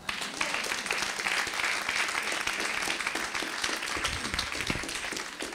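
Church congregation applauding during a sermon, a sustained loud wash of many hands clapping steadily throughout, with a few cheers and voices mixed into the crowd noise.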